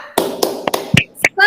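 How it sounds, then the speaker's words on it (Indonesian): Schoolchildren in a classroom do the rhythmic 'tepuk semangat' clap, a handful of sharp, distinct claps in patterned rhythm, ending with a shouted voice. "mari kita tepuk semangat terlebih dahulu anak-anak"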